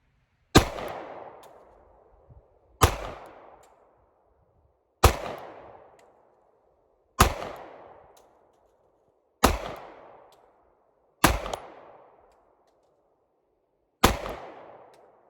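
Seven sharp pistol shots from a custom Sig P365 firing hollow-point rounds, evenly spaced about two seconds apart, each a loud crack with a short decaying tail, close and outdoors.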